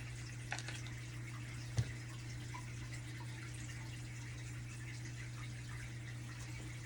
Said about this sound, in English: so y'all don't have to listen to my fish tank. It's the water.